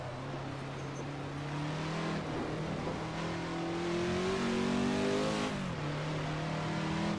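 Car engine in the Assetto Corsa driving game revving and accelerating continuously, its pitch rising and dropping through gear changes, steady and fairly loud with no talk over it.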